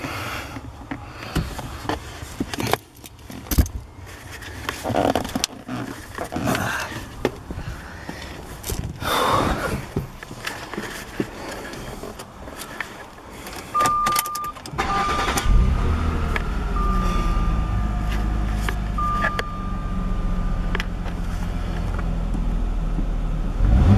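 A 2004 Jaguar X-Type's engine cranks and catches partway through after some clicks and handling noises, then settles into a steady, fairly close idle that continues to the end.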